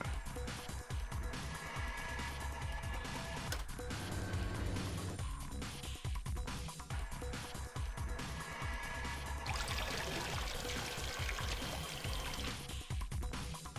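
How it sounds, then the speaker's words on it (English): A continuous loud pouring, rushing water effect fills a puzzle room in the video game Zero Escape: Virtue's Last Reward, steady throughout with no voices. "What a water sound effect."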